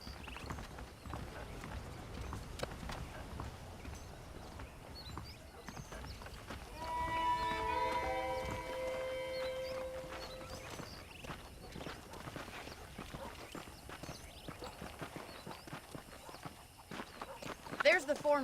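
Horse hooves clip-clop at a walking pace amid Red Dead Redemption game background ambience, with a brief horse whinny partway through.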